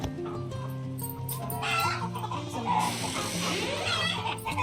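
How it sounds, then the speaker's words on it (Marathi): Chickens in a farmyard cluck and squawk together, a busy, overlapping flock sound that grows louder partway through. "चला आता बाहेर जाय आणि आता आमचे कोंबड्या पहा."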